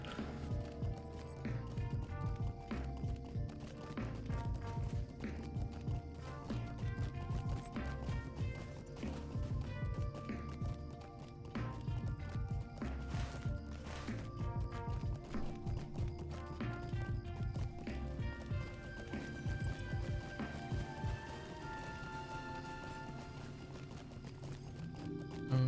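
A war steed gallops in a video game, steady rhythmic hoofbeats continuing through the whole stretch at a moderate level, with game music and effects running underneath.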